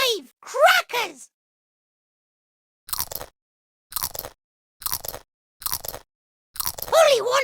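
A cartoon parrot crunches crackers in a Peppa Pig video game, five short, evenly spaced crunches in a row, each followed by a brief silence, with a voice speaking just before and after them.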